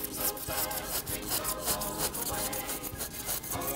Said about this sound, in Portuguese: Com o estilete, eu vou em cima da onde eu risquei e vou cortando.